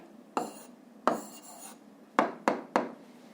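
A pen scratches on paper in short bursts, five distinct strokes spread irregularly over a few seconds, close and fairly quiet with nothing else heard.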